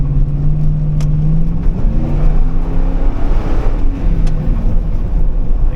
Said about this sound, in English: But when you get on it, there's a little bit more of a growl.